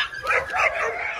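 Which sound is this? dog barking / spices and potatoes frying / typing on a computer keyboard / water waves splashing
dog barking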